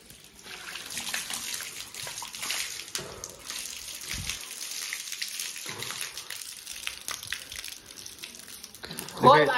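Water runs from a tap in a steady, soft trickle as people talk over it, with a louder splash near the end.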